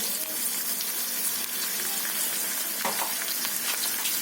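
Ginger, garlic and green chillies frying in hot oil for chicken ghugni, a close, dense sizzle and crackle with brief bursts of spattering, steady throughout.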